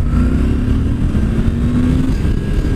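A loud engine drones close by, its tone holding steady then dropping slightly, like a motorcycle under throttle while riding.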